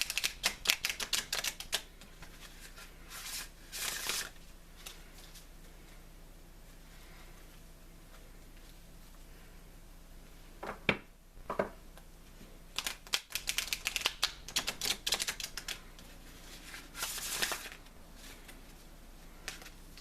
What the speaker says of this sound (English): Now I'm going to pull my Vampirina Cardomancy deck.